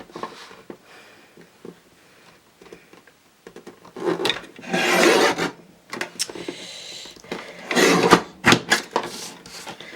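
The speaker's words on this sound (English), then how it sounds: "I don't know if anyone else has this Crafter's Companion guillotine" Paper being cut on a Crafter's Companion guillotine trimmer while making one-sheet-wonder cards, heard as soft scraping and rasping swipes with small taps and handling noises, close and fairly quiet.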